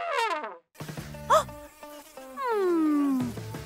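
A cartoon bee's buzzing hums and swoops, rising and falling against brief squeaky character sounds in a children's animated show.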